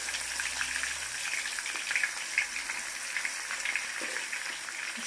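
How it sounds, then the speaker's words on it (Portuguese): Pork ribs go into very hot fat in an iron pan, giving a steady, fairly quiet hiss of frying with faint crackles throughout and no talking. "Vou colocar devagar para não espirrar em mim. A gordura está bem quente."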